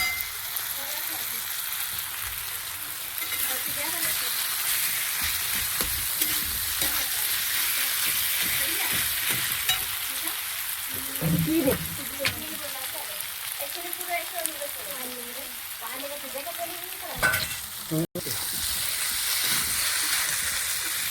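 Spice masala fries and sizzles in a pan with a steady hiss, with scraping stirring strokes through the middle and a brief clatter near the end. Faint voices murmur in the background.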